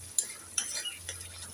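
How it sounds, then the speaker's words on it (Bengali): Spice paste (masala) being stirred and fried in a pan for a chapila fish mustard curry, soft sizzling under a few distinct scraping strokes of a spoon against the pan, close and brief. "এখন আমি নেড়ে চেড়ে মশলাটাকে 3 মিনিট ভালোভাবে কষে নেব।"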